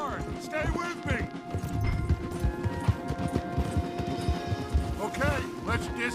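Horses galloping hard in Red Dead Redemption 2, a steady stream of hoofbeats running through the whole stretch with riders' voices talking over them.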